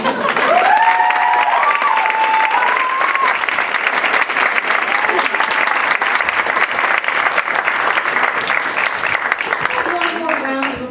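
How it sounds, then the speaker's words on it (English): A graduation audience gives sustained, dense applause for the whole stretch, staying loud and even, with a brief voice or cheer rising near the start. "One more round of applause for our truly exceptional."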